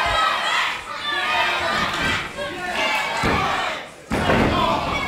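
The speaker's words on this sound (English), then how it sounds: "you can hear a lot of the crowd here in Southend chanting for Smashing Mike" A wrestling crowd in Southend chanting for Smashing Mike, loud and boisterous with rhythmic shouts and bursts of noise, a heavy thud near the end.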